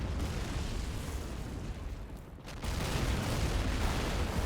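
Heavy 240 mm artillery fire and explosions in the war game Men of War: Assault Squad, heard as a sustained loud rumbling roar that dips briefly midway and then swells again.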